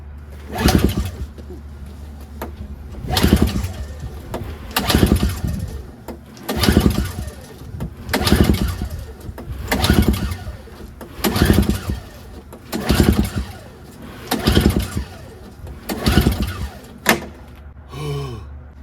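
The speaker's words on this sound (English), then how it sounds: "So we're gonna have to just manually pull it and see if it starts." Repeated pull-starts on a NOMA 4.5 single-stage two-stroke snowblower, about ten evenly spaced rasping recoil pulls, each a short loud burst, without the engine firing.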